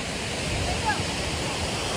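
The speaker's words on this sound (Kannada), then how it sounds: "ಇದೊಂದು ಸ್ವಲ್ಪ ಎಂತ ಇದು ಫಾಲ್ಸ್, ಸಣ್ಣದೊಂದು ಫಾಲ್ಸು." A small roadside waterfall in the green Kyatanamakki hills gives a steady, broad rush of falling water, continuous and fairly close, with no clear talking over it.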